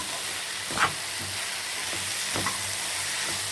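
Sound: stir-frying prawns with onions

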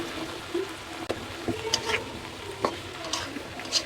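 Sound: frying pointed gourd in a pan

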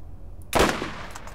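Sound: gunfire in the video game Borderlands

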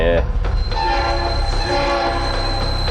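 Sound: train horn in Roblox video game

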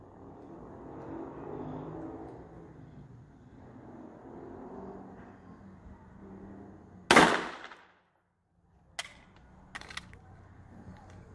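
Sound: pistol shots in precision shooting practice

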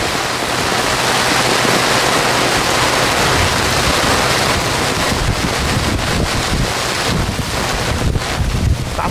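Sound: strong wind during a flood storm

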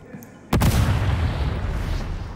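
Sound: Blitz grenade explosion in video game Warhammer 40K: Darktide

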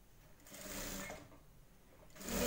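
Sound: sewing machine stitching a blouse

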